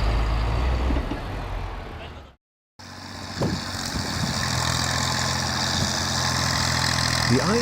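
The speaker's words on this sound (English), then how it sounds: "The IMT 549-4WD tractor demonstrates its impressive off-road capabilities as it moves steadily through a thick layer of snow" A diesel IMT 549-4WD tractor engine chugs steadily close by while driving through thick snow, cut off briefly by a gap of silence, then droning on with a low rumble.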